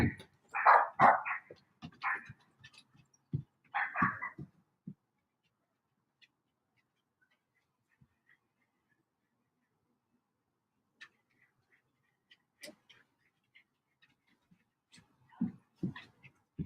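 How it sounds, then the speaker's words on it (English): Dogs bark loudly in a couple of quick bursts, then the sound drops to near silence with faint scattered noises before a few more low barks near the end. "My dogs are going nuts."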